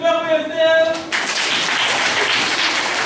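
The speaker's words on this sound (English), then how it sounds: "Clap for yourself." A group of people, children among them, breaks into loud applause after a spoken cue. The clapping is dense and steady and stays close until the end.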